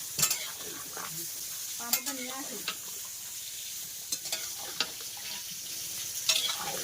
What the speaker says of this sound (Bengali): এখানে মাংস আর এই যে বেগুন ভাজা হচ্ছে